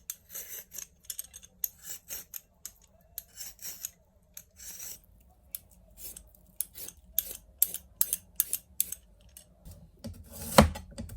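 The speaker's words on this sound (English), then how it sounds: "Peel the Chinese yam." A Chinese yam being peeled with a peeler, giving short repeated scraping strokes in bursts with pauses, close and quiet, ending in a louder rough rasp.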